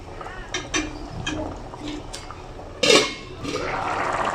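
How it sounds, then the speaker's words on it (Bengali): A metal lid clatters sharply onto a cooking pot of bhuna khichuri with potatoes and chicken, one bright clang standing out over faint kitchen clinks and a low background hum. "আমি এখন এটা ঢেকে রান্না করে নেব।"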